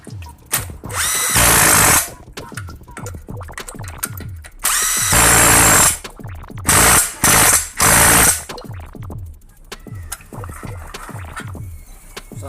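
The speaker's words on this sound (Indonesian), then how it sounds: "Kemudian kita pasang baut pengancing cylinder head dan kencangkan menggunakan kunci" Tightening the cylinder head bolts on a Honda GX160 engine with a 12 mm wrench: loud ratcheting clicks alternate with several harsh, whirring bursts of tool noise, close up, with no talking.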